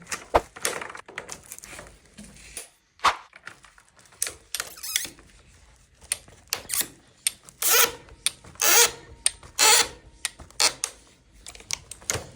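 Hand tool work on a Rehau pipe for underfloor heating, a pipe expander widening the pipe end twice for a press sleeve fitting, giving bursts of sharp clicking, squeaking and scraping in an uneven rhythm, close and fairly loud.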